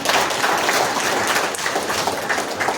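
Audience applause at a 25th foundation day gathering, a dense, steady wash of many hands clapping throughout, loud and close.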